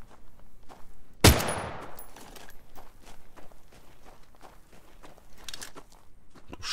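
Gunfire in the video game The Front: one sharp, loud close shot rings out early and decays, followed by a steady train of quieter rapid clicks and crunchy steps.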